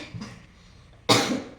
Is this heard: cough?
yes